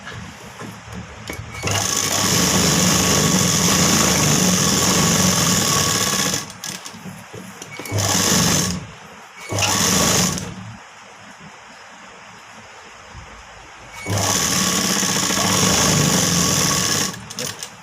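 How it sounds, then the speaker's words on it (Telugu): Sewing machine stitching a blouse lining, running in loud, steady bursts of rapid mechanical whirring with short pauses and stop-start runs between them. "ఎప్పుడు ఓవరే కుట్టేసుకోవాలి"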